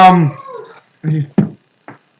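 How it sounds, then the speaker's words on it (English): Pet dog whimpering to be let out, a drawn-out high whine followed by three short yelps, close and loud indoors. "Hold on, my dog needs to go out."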